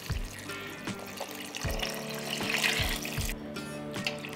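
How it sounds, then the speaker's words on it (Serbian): Water poured into a pot of beans, a soft running, splashing flow with a few low thumps, fairly quiet and close. "I sada ću naliti sa vodom."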